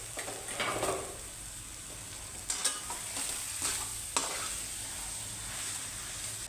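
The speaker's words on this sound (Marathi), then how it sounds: "हा जो बारीक केलेला बटाटा आहे ना तो त्याच्यात मिक्स करायचा" Mashed potato is stirred into a spiced Mumbai-style vada pav filling in a pan: a spoon scrapes and stirs repeatedly over a soft, continuous frying sizzle, with an occasional sharper knock.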